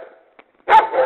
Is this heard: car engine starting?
no